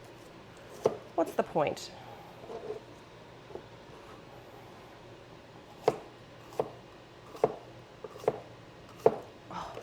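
Food being diced with a knife on a cutting board during meal prep, a scattering of soft, quick chops in short bursts, faint and close, with brief talk in between.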